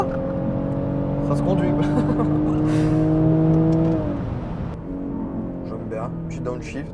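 Hybrid car fitted with a Nissan 350Z engine driving on the road, a steady engine drone rising as it revs, then dropping in pitch at a downshift before pulling on; someone talks throughout.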